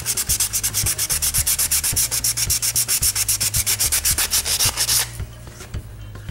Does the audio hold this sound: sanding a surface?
yes